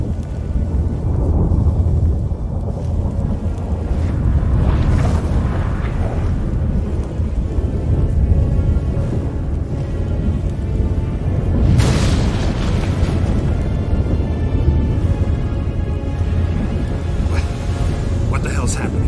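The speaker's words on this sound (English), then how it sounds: "That a storm?" Thunderstorm in The Witcher 3 video game: deep rumbling thunder and booming crashes over steady rain-like noise, loud and continuous throughout, with voices speaking at times.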